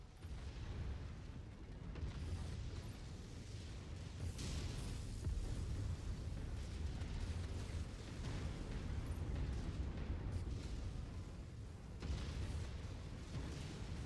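Explosions destroy targets in a video game, with a continuous rumbling roar of blasts and bursts that swell and fade over a dense, low-pitched backdrop, fairly faint overall.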